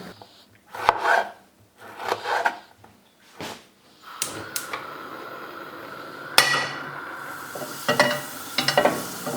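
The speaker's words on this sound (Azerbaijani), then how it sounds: "Əvvəla paprikanı, daha sonra isə pomidoru doğrayıram. Bıçağın taxtaya dəyən o səsi ayrıca bir terapiyadır." A knife chops bell pepper and tomato on a wooden cutting board, bursts of clustered chopping taps with short pauses, then denser, sharper knocks and scraping near the end.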